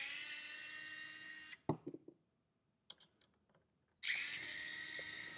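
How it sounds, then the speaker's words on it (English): A power screwdriver backs screws out of a G07 arcade monitor chassis during a Ms. Pac-Man restoration, two close whirring bursts with a short pause and a few faint clicks between them, and no voices. "So we'll remove these two screws."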